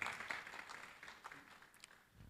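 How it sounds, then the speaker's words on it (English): An audience claps at a formal economic performance review and launch event, a soft, fairly faint wash of applause lasting a couple of seconds and easing off toward the end. "A round of applause for her"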